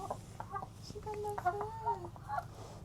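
Rescued homestead chickens cluck and make short murmuring calls up close, a few rising chirpy notes in a quiet setting, with a person's voice faintly present.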